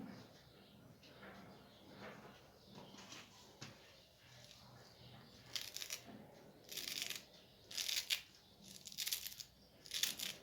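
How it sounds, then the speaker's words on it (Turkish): Soft knife chopping parsley on a board, quiet at first, then clusters of quick crisp cuts in an uneven rhythm. "maydanozu kaldı onu doğrayacağım"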